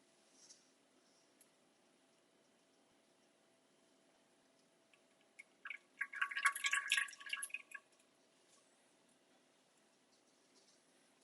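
Liquid poured into a cast iron pan in a home kitchen gives a brief burst of bright splashing and trickling for about two seconds, set against a quiet room.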